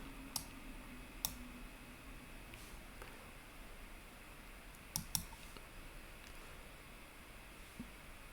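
A computer mouse gives a few faint, isolated clicks over a low, steady hiss while a file is downloaded and saved.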